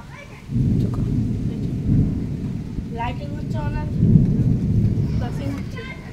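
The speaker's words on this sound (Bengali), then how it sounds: "দেখো মেঘের শুধু গর্জনটা তোমরা শোনো" Deep rumbling thunder rolls from storm clouds during rain, two long low swells a few seconds apart with rain hiss underneath and faint higher chatter between them.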